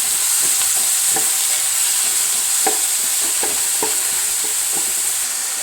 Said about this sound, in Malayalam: ഇതെല്ലാം ഈ വെളിച്ചെണ്ണയിലേക്ക് ആഡ് ചെയ്യാം നന്നായിട്ടൊന്ന് വയറ്റി കൊടുക്കാം